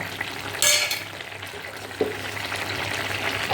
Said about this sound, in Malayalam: ഇനി മുട്ട ഇതിൽ നല്ലോണം ഇളക്കി കൊടുക്കുക